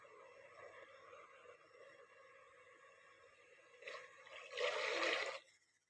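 Measured water is poured into a cooking pot for a little over half a kilo of rice: a quiet, soft trickle swells into a louder, splashing pour for about a second before stopping, with no voices.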